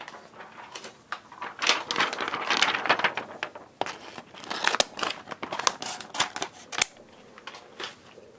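Scissors snipping close up, with a series of sharp cutting snips in irregular clusters, fairly quiet and with no talk, during a nail polish marbling craft.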